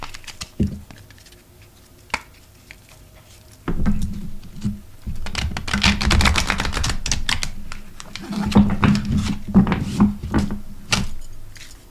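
Rapid riffling clicks and soft snaps of cards being shuffled at close range, coming in bursts with brief pauses between them.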